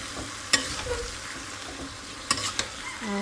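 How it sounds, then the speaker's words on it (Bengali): Vegetables and shrimp cook in a home kitchen pan, giving a low steady sizzle broken by a few sharp clinks of a stirring spoon against the metal. "এখানে হলো সবজি রান্না করতেছি চিংড়ি মাছ দিয়ে"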